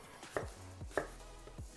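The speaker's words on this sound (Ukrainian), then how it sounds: "Самі яблука нарізаємо на невеличкі шматочки." A knife dices apple onto a cutting board, three sharp knocks spaced evenly apart, close and clear with no voices.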